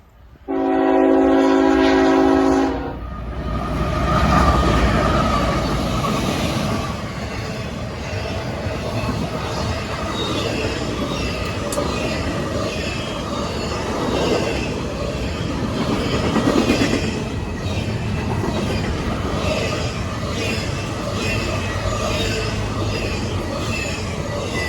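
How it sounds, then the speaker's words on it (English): A CSX IO10 freight train sounds a loud, blaring horn, then rolls past close by with a continuous rumble and rhythmic wheel clatter that holds steady for the rest of the passage. "Symbol on that train is CSX IO10."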